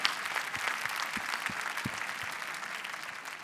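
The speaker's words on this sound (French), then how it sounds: "Et j'aimerais bien qu'on applaudisse les équipes de Big" A crowd in an arena applauds steadily at a business event, a moderately distant wash of clapping with a few low thumps underneath.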